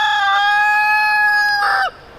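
A rooster crows once, a loud, close, sustained cock-a-doodle-doo that lasts nearly two seconds and breaks off sharply at the end.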